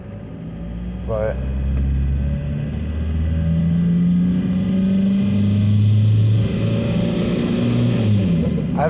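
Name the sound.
Dodge Dakota with TDI engine swap driving off in 4-wheel drive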